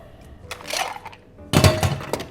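Ice cubes clatter into a metal shaker in two bursts, a lighter rattle followed by a louder, heavier tumble of cubes, close up with no talking.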